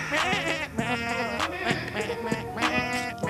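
A goat bleat recording plays from an Alexa smart speaker: several wavering, nasal bleats in quick succession, loud and close, with no voices in between.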